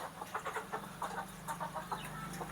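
Free-range village chickens kept in galvanised battery cages cluck softly and repeatedly, several birds close together over a steady low hum, fairly faint and with no talk.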